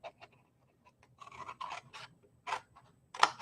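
Scissors cut out a rectangle for a frosted floral ribbon storage box, making several quiet, close snips and crunchy rasps in an uneven rhythm, with no voices.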